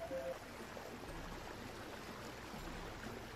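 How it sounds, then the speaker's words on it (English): Steady, continuous lapping of water around a boat ride in a French video game, a soft, even wash and trickle that persists throughout at low volume with no clear breaks. "we check out this boat, and it's just rocking in the waves and stuff like that"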